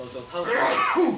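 A single close, sharp sneeze erupting during a talk about Taiwan election polls, brief and loud, following and overlapping a man's speech.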